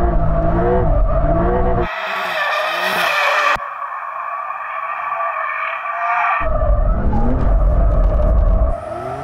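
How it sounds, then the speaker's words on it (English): A Lamborghini Huracán Sterrato or Porsche 911 Dakar drifts around a tree, its tires squealing and skidding loudly in long sustained bursts while the engine revs hard, shifting pitch as the car slides. "just wants to go and have a little bit of a victory drift round a tree"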